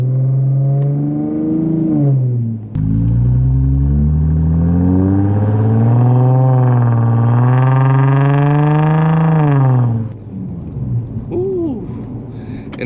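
A loud, deep exhaust drone from an Infiniti G35 with a resonator and muffler delete, strong low harmonics rising and holding steady as the engine revs, then dropping off near the end, heard inside the cabin.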